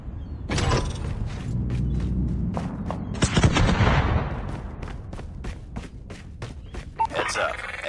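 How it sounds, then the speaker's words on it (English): Gunfire from an airborne strafe run in a video game: a loud rumbling barrage, then a long series of sharp, evenly spaced shots that gradually fade, with game voices over the top. "We have rolled in a strafe run."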